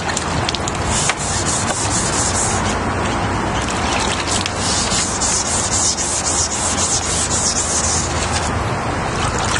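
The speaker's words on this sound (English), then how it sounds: "The first step is to use the 800 grit sandpaper to loosen all the junk that's on in front of the light" Wet sanding oxidized headlight plastic with 800 grit wet-or-dry sandpaper gives a continuous close rasping scrub, steady and loud, with rhythmic back-and-forth strokes and no talking.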